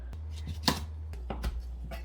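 A knife chops through hard-skinned quince on a board, sharp irregular cuts over a low steady hum, no speech.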